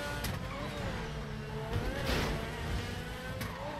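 A car in GTA 5 drives along with a moderate engine hum that rises and falls slightly, heard fairly close and without any talking.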